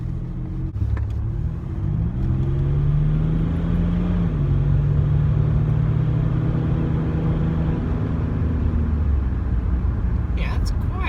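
A Ford Territory's 2.7L turbo diesel V6 runs with its muffler deleted, producing a loud, continuous low rumble throughout as the engine note rises and settles while accelerating at close range.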